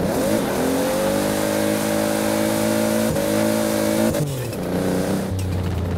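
A human voice imitates a BPU Toyota Supra engine revving in Forza Horizon 4, loud and close, with sustained droning pitches rising and falling through several rev changes and shifts over about six seconds.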